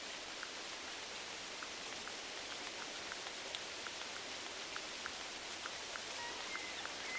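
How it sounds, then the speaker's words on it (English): Loud steady rain in the hunting video game theHunter Classic, a continuous hiss of falling water with faint scattered drips, evenly sustained throughout with no voices. "that rain is loud"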